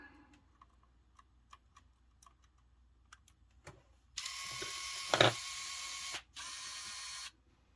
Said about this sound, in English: Well, the disk drive doesn't sound bad.